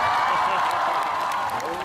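Audience applause at a Christmas Eve carol-singing event during a song-request segment: dense, steady clapping fills the whole stretch at a fairly loud, even level, with a light crowd murmur beneath.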